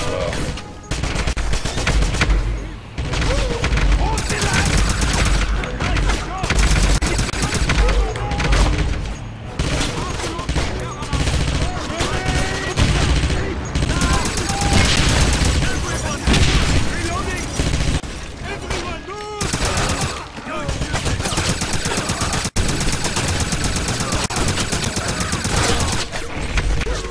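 Wolfenstein (2009) gunfire, dense continuous bursts of machine-gun and rifle shots with booms, loud and relentless for the whole stretch, with voices speaking throughout.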